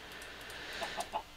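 Three short clucks from chickens in a farming video game, evenly spaced over a busy background of game sound.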